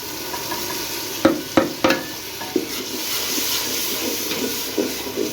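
Tomato and chili paste sizzles in a pan over browned onions, a loud steady hiss broken by several sharp clacks and scrapes of a spoon against the pan, close by with no talking.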